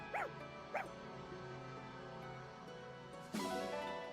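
Dog sounds from Fire Emblem Engage: two short yips or whimpers close together, a quiet stretch with faint game music, then a brief louder burst near the end.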